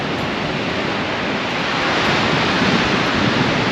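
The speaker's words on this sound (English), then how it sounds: "Another little waterfall right there." Small waterfall on a quiet hiking trail near Godafoss outside Akureyri, Iceland: a steady, broad rushing of falling water, continuous and fairly close, with no talk over it.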